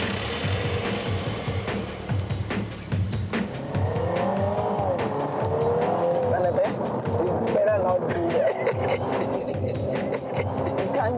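A new MINI car drives along with a steady engine and road roar, brief tire squeals and swelling revs, while people talk over it throughout.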